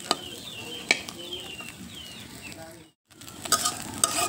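Chanda fish frying in oil in a pan, a steady close sizzle with a few sharp clinks of utensils, cut by a brief silence before the frying resumes.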